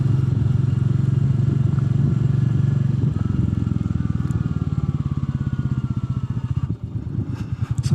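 A Royal Enfield Meteor 350 motorcycle with a belt drive rides over a gravel road, its engine thumping steadily up close. Loose clatter and rattling come over the engine toward the end as the bike hits bumps.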